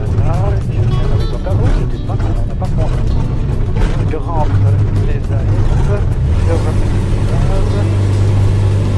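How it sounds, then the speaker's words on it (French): A Lambada UFM 15 ultralight aircraft engine drones loud and steady at full power during takeoff, with someone talking over the constant roar. "Là, ça pousse quand même le moteur."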